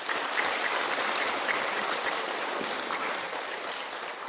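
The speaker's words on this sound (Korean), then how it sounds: "박수 쳐주세요." Buddhist temple congregation applauding during a dharma talk, a dense, steady clapping from many hands filling the room, close and sustained throughout with no voices.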